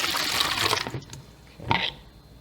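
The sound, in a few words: pouring yeast with brown sugar into beer bottles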